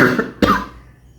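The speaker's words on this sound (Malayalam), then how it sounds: "എൻ്റെ ചുമ" A person recovering from a lingering post-fever cough coughs twice, close and fairly loud, the second cough sharper and followed by a rasping tail, with no talking.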